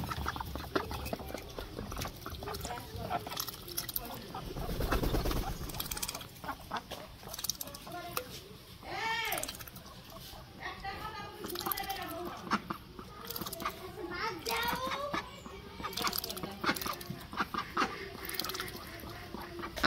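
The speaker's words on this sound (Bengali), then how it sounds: "তো আমি হাঁসগুলোকে ছেড়ে দিই।" Ducks released and fed in a village yard make repeated quacking and chattering calls, close and busy, mixed with scattered clatter and rustling.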